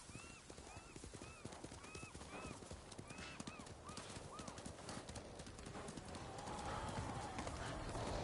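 A horse gallops in the video game Ghost of Tsushima, quick rhythmic hoofbeats running steadily throughout, with bird calls chirping over them and a rushing water-like swell building toward the end.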